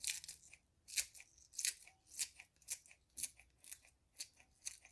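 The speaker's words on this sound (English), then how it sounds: "I'm just gonna cut that in there with my scissors" Quiet, crisp snips of scissors repeat in a steady rhythm, about a dozen close cuts through fresh garlic sprouts.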